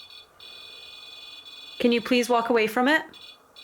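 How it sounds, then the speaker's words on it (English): A REM pod device sounds a continuous high electronic alarm tone during a paranormal investigation of a house, steady throughout while people talk over it midway. "It's like an alarm, isn't it?"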